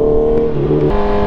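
A Honda CB650R fitted with an Ixil Carbon Extreme exhaust revs hard and close. It gives a loud, sustained, droning engine note with a brief pitch rise and fall mid-rev.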